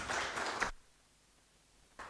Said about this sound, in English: So may we all please welcome Jim with a round of applause.